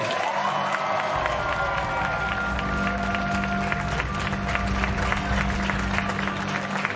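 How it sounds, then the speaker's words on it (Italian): An outdoor crowd at a summer comedy show in a Puglia town square applauds and cheers steadily, dense clapping with scattered shouts continuing throughout at a moderate distance. "applauso per lui."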